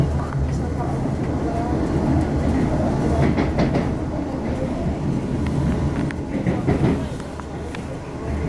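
A train rounds a sharp bend near the Adelaide Road level crossing by the River Itchin, rumbling steadily and close with rhythmic clickety-clack from the wheels on the rails.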